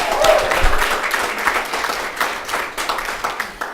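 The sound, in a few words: studio audience applause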